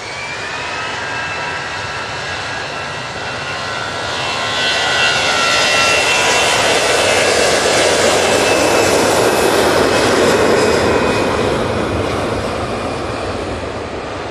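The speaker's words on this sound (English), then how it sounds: "Coming on, taking full length, 5 Tango, we have this EasyJet off to Dalaman." An EasyJet jet airliner takes off at Manchester Airport, its engine roar swelling from a steady rumble to a loud, sustained peak midway before easing slightly, with a high whine running through it.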